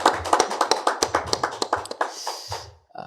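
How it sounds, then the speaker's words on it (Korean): A church congregation claps for its worship team during a Christmas evening service. Brisk, distinct hand claps come close and fairly loud, then thin out and stop abruptly near the end. "우리 찬양단 위하여서 격려의 박수하도록 하겠습니다"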